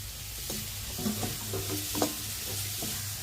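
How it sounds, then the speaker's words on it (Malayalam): Cashews, raisins and grated coconut roast in ghee with a soft, close sizzle, broken by spatula stirs and light scrapes against the pan, with no talking. "നമുക്ക് ഈ അണ്ടിപ്പരിപ്പും ഈ മുന്തിരി, ഈ തേങ്ങ, ഇതെല്ലാം നെയ്യിലൊന്ന് ചെറുതായിട്ടൊന്ന് റോസ്റ്റ് ചെയ്തെടുക്കാം"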